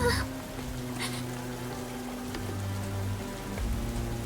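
Steady rain falls in a scene from the video game Goddess of Victory: Nikke, a continuous wash of patter with low tonal game music underneath and no voices.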